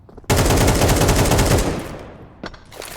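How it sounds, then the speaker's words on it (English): Rapid bursts of automatic gunfire boom loud and close for over a second in a Counter-Strike 2 match on Overpass, wallbang shots fired through walls, trailing off before a few sharper cracks near the end. "A couple ambitious wall bangs, but CT's just a little off the angle."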